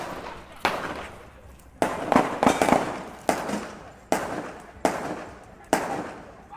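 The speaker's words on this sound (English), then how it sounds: "These seem to be gunshots." Gunshots ring out outdoors, about seven sharp reports at irregular intervals, each a sudden loud crack with a decaying tail, while faint voices murmur between them.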